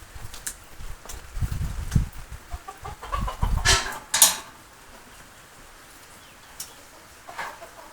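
Chickens cluck in short, scattered bursts in an open cattle shed during rain, some louder and closer, with occasional clatter and quieter stretches between calls.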